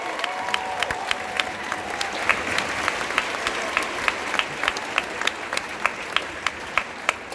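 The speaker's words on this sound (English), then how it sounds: "Would you give them a round of applause?" A school concert audience applauds sixth-grade band students with sustained, even clapping, a few sharper individual claps standing out near the front and light crowd noise behind.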